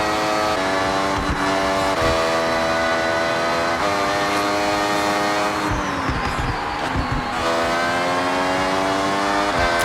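An Italian car in Forza Horizon accelerates hard, its engine note climbing through the gears in loud rising sweeps, with a short dip at a gear change midway before revving up again.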